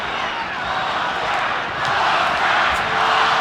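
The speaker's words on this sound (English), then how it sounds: "Crowd already chanting Oscar, Oscar, Oscar." Dense, loud arena crowd roaring steadily at a Las Vegas boxing match as Oscar De La Hoya's first round begins, swelling slightly toward the end with a rhythmic chant of his name blended into the din.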